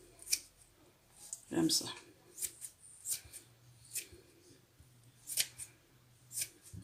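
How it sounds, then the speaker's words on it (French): Scissors snipping through pork fat being cut up for rendering into lard, a series of close, sharp irregular cuts with a soft voice speaking briefly between them. "Moi, je travaille beaucoup au ciseau."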